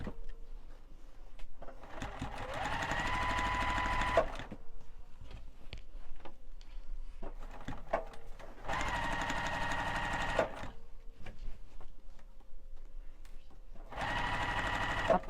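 A sewing machine stitches a Santa hat pillow in bursts, its fast mechanical whirr running a few seconds at a time, pausing while the fabric is lifted and pivoted, then starting again, with quiet handling noise between runs.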